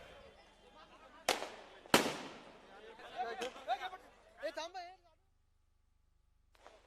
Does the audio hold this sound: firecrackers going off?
yes